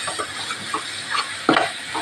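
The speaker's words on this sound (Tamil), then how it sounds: "பாருங்க மசாலா எப்படி வதங்கிட்டு பாருங்க" Masala for a jackfruit gravy sautés in a pan, a steady close sizzle broken by a few scraping stirs, with one louder stir near the end.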